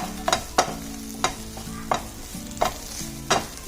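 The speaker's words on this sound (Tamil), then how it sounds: "போட்டுட்டு நல்லா வதக்கிடுங்க." Cumin powder sautéing in a pan for vegetable sambar with okra, heard as a series of about six rhythmic metal spatula scrapes against the pan over a light sizzle and a low hum, close and without talking.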